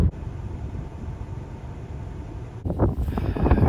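Strong wind gusting across a farm truck during harvest, buffeting the microphone with rough, low rumbling noise that surges louder toward the end.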